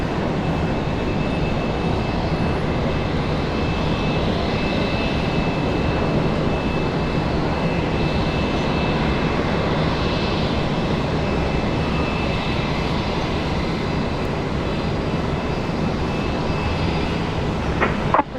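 An airliner lands and taxis at Brisbane Airport during a severe storm, a sustained broad roar of engines heard from a distance that holds steady throughout, with a brief thump near the end.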